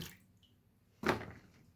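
Brinjal slices lifted out of a bowl of water in a home kitchen while preparing crispy pakoda, giving one short, close splash and drip of water after a quiet pause.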